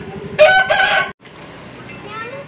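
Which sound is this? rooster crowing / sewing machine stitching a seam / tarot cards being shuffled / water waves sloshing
rooster crowing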